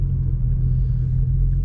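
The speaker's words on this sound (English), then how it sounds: "this is a LS3 Camaro SS with the 6-speed manual" An LS3-powered Chevrolet Camaro SS with a 6-speed manual gives off a deep, steady engine rumble, loud and close, holding even throughout the short stretch.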